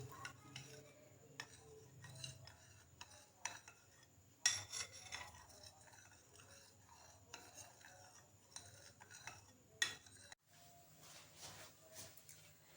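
A spoon stirs syrup for a homemade shaved-ice treat, with faint, soft clinks and scrapes against the container repeating quietly over several seconds.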